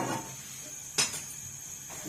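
Potato and mogri curry ladled from a pot into a serving dish: a few soft metallic clinks and scrapes of a spoon against cookware, close and sparse over a quiet background.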